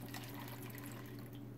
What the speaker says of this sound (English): So I usually pour my water in first.